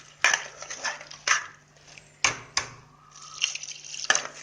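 Water goes into a pot of Tamil Nadu style brinjal and mango sambar in a series of short splashy bursts and drips, separated by quiet gaps, over a faint steady hum.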